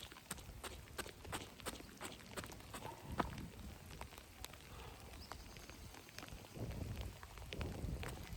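Steady outdoor rain patters through a Northern Irish workout session, with dense scattered drops and occasional heavier taps or footfalls, a continuous wet hiss throughout and no talk.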